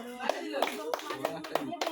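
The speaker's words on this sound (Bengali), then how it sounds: "সবাই ওর জন্য তালি দাও" A small crowd claps for a child in a rhythmic, evenly spaced series of about seven claps, close and crisp, with a voice speaking underneath.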